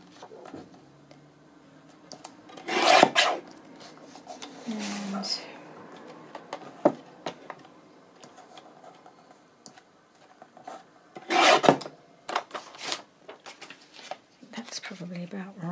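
Paper is trimmed for hinged pages with a few sharp scratchy cuts and rustles, in short bursts at a quiet, close indoor table, with some background patter between cuts.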